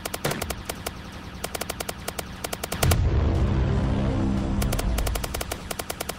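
Mars Blaster fire in the Roblox game Zombie Rush, zombies being shot: rapid bursts of sharp clicky shots repeating in quick clusters, with a dense rumbling stretch of continuous fire and impacts in the middle, loud and close.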